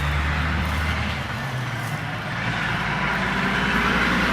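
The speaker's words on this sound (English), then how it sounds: "for that truck to pass" A truck passing by outdoors in a garden, its low engine rumble and broadband road roar steady and fairly close, swelling slightly toward the end with no talk over it.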